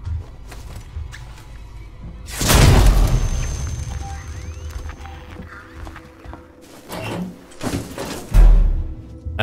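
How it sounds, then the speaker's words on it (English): A flashbang grenade in Alien Isolation goes off with a loud, close bang and a long rumbling decay, followed by quieter thuds and a second heavy thump later, with no voices. "Somehow I don't think he gave a shit that I just threw a flashbang at him."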